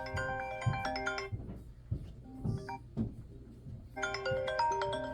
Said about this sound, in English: ringtone, everything still works.